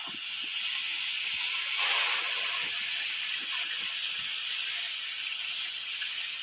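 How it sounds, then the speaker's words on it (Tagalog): Coconut milk goes into a simmering pot of sinantulan, producing a loud, continuous hissing, bubbling wash with small pops underneath, steady throughout with no voices. "Tapos ilagay na yung gata."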